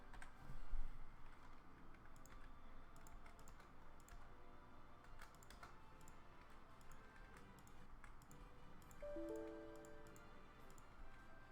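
Steady, faint clicking of computer keyboard typing, the rapid key taps continuing throughout at low level against a quiet room background.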